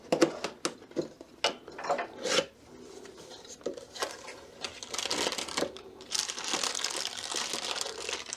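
A BougeRV 12-volt compressor refrigerator is unpacked from its box: close, irregular bursts of crinkling and rustling packaging, with sharp handling knocks early on and denser crackling later.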